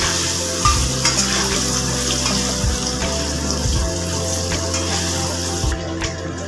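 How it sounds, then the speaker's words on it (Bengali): Paneer fries lightly in hot oil with a steady, close sizzle, broken by a few soft spatula scrapes and knocks as the pieces are turned; no one speaks. "পনির কিন্তু খুব বেশি ভাজবো না, হালকা করে ভাজবো"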